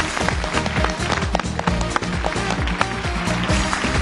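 A studio audience on a Chinese TV dating show applauds as the second male guest is welcomed, steady loud clapping mixed with strong rhythmic music.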